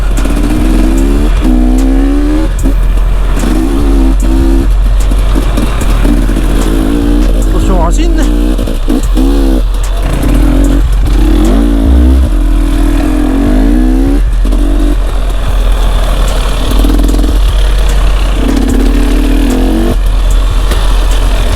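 An enduro motorcycle runs along a trail in a continuous loud engine rumble, revving up and down in repeated surges, while a rider talks over it throughout.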